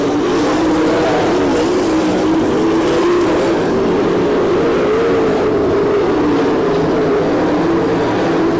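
Sprint cars race on a dirt oval at Lima, Ohio in an All Star Circuit of Champions Speedweek event, a dense, steady roar of many engines with wavering pitch holding loud throughout, crowd and track wash beneath.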